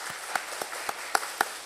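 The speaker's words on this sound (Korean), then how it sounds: "우리 박수로 감사의 마음을 전합니다." A church congregation at a Sunday service in Songnae applauds, broad steady clapping with a few sharp, louder individual claps standing out at irregular intervals, no voices over it.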